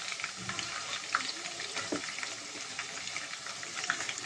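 Chicken legs frying in a pan, a steady close crackling sizzle with fine spitting pops throughout and a few brief clinks or stirring scrapes, no voices.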